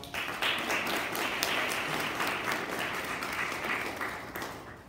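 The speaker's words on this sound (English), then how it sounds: "Can we give her a round of applause?" A class gives a round of applause, dense clapping from many hands that holds steady and fairly loud for about five seconds before thinning out slightly at the end.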